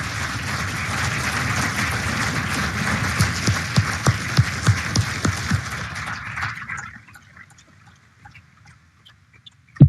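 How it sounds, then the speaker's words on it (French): A conference audience applauds two doctors after a talk on heart failure. The clapping is full and sustained for several seconds, then quickly thins and fades into near silence. "je vous demanderai d'applaudir le docteur Cyril Pellaton et Luis Marquez."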